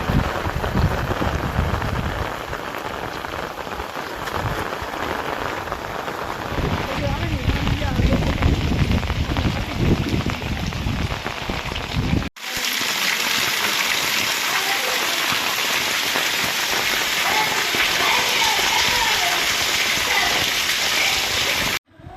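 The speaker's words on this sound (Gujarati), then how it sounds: "અત્યારે અમારા ગામમાં ફૂલ વરસાદ આવે છે" Heavy rain pours steadily and loudly, a dense broadband rush that cuts briefly halfway through, then resumes just as strong.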